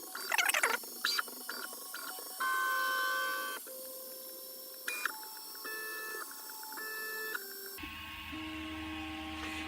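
A Prusa Mk2S 3D printer prints a calibration square, its stepper motors giving off a series of sustained tonal whines that change pitch between moves, fairly quiet and close, with no talking.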